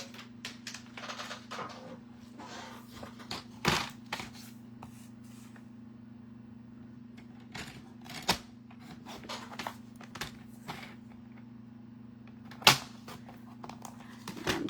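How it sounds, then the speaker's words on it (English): Paper tags for card making are cut down with a trimmer. Scattered sharp clicks and snaps ring out, with a few louder cuts, over a steady low hum and quiet room tone, with no talking. "So I'm going to go ahead and cut all of these down."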